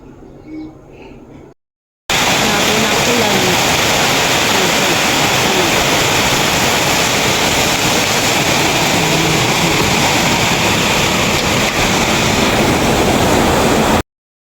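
Heavy rain driven by strong wind pours over a farm plot of chili plants, a dense roaring wash that starts abruptly after a brief quieter moment and holds loud and constant.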